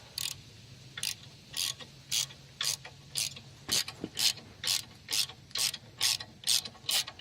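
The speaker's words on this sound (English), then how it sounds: "Just going to loosen these a little bit first." A ratchet fitted with a 5/8 inch socket and extension clicks steadily while loosening bolts on an Invacare Pronto M91/M94 power wheelchair motor, about a dozen crisp evenly spaced ratcheting bursts up close, with no talking.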